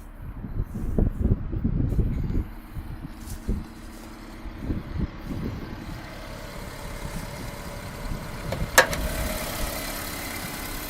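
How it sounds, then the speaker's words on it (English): A 2000 Honda Civic EX with its original D16Y8 VTEC engine and automatic transmission idling, a low steady rumble with some louder uneven bursts early on, then a quieter even idle. "And here's the engine. It's the original D16Y8. It has VTEC."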